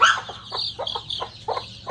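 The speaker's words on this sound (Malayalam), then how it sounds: "ഇതാണ് നമ്മുടെ മൂന്ന് തള്ളക്കോഴികളും കുഞ്ഞുങ്ങളും ഒക്കെ" Three mother hens with their chicks cluck in a quick, regular series of short calls, close by, over a low background hum on a hatching day.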